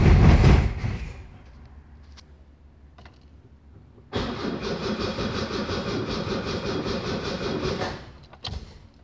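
A VW Del Rey engine on its first start after a rebuild: an early loud burst fades to quiet, then the engine catches and runs with a steady, loud rumble for about four seconds before cutting out as the carburetor runs dry.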